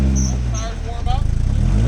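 A car engine hums and then pulses in a rapid rhythmic revving while the rear tires warm up in low gear, loud and close, with a voice speaking over it.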